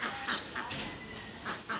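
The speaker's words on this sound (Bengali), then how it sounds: "দেখেন হাঁসে খাবার দিয়েছে" Ducks quack in short bursts while being fed in a quiet town setting on an unhurried morning, a few nearby calls spaced over a steady low background.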